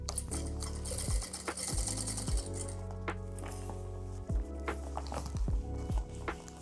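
Sewing machine stitching a thick seam through heavy fabric, running in short bursts of rapid mechanical whirring with pauses and clunks between, close up.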